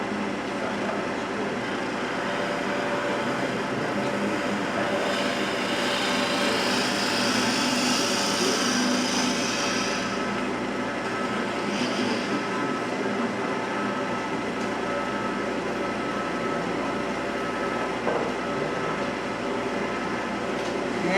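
A wood lathe turns a Saturn bowl box while a tool takes a light finishing pass, giving a steady, loud motor whir with a brighter cutting hiss that rises briefly partway through.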